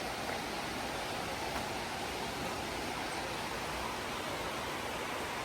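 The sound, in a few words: waterfall, rushing water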